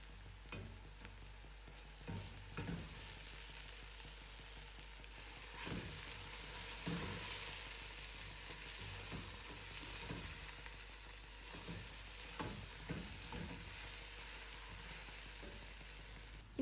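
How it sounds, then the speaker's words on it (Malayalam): Onions and crushed green chilies sauté in a pan for a mutton biriyani, giving a steady sizzle and frying hiss with repeated soft scrapes of stirring throughout, fairly close and alone. "സവാള വഴന്നു വരുമ്പോൾ ചതച്ച് വെച്ച പച്ചമുളക് ആദ്യം ചേർത്ത് നമുക്കൊന്ന് വഴറ്റിയെടുക്കാം."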